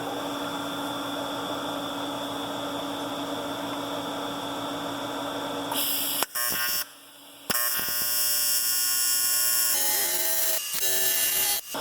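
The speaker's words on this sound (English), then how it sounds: "So I'm running 160 amps and I think 120 hertz on my little welder." TIG welder at 160 amps tack welding a small cast intake manifold coupler for a VW 1.8T engine build, a steady buzzing hum broken into short bursts with brief silent gaps, close and fairly loud, no talking.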